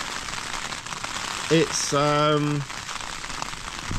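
Steady rain falls on a tent in an all-day downpour, a dense, close pattering hiss that runs throughout while a voice speaks briefly in the middle.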